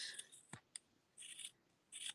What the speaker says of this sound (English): And then we're going to take our scissors